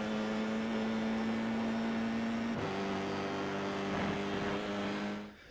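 A Formula iR-04 F4 race car engine at Monza in iRacing drones at a steady high pitch at full throttle, shifting once midway, then fading out at the end.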